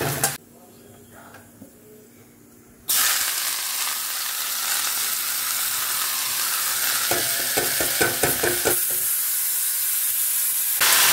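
Potato and carrot pieces fry in a pan with a steady, close sizzle that starts suddenly after a quiet moment. Stirring clatters punctuate the hiss, and someone talks over the cooking.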